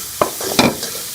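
Spoon stirring spices into chicken filling for samosas in a pan, a few short scraping and sizzling strokes, close and moderately loud with no talk.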